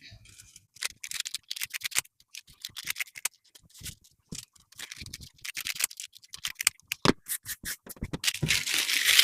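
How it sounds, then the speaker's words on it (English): Scissors snipping the corners off crepe paper for a giant paper rose, a run of quick close crisp cuts and rustles with pauses between, building to denser crinkling at the end. "this corner we just cut a little bit off the corners"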